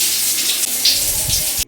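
Shower water pours steadily in a steady hiss of running water, close and fairly loud, with light splashes shifting slightly until it cuts off abruptly at the end.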